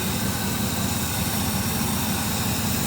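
A classic Ford Maverick's engine idling steadily after a carburetor adjustment, a continuous low rumble with even vibration and no voices over it.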